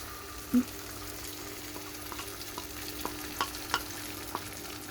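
Tomato sauce goes into a pan of chicken pasta, giving a soft, quiet sizzle broken by a few scattered clicks and a single brief knock near the start.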